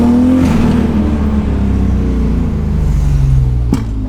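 A Toyota 1JZ swapped engine on stock exhaust revs loudly and close, its steady throaty drone holding for a few seconds before a sharp blip near the end.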